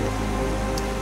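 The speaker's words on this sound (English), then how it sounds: "now we're on our way down and it's raining" Steady rain falls in a forested canyon during a summer monsoon, a dense continuous patter on the surroundings, close and even throughout with no voices.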